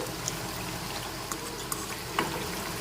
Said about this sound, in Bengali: আমি এখন উল্টিয়ে নিচ্ছি আর লো ফ্লেমে রেখেই ভেজে নিচ্ছি